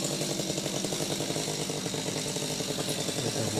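A chainsaw cuts a tree branch high up, the operator holding on with one hand near power lines; the engine drones loudly and steadily with a rapid pulsing chatter throughout, no voices.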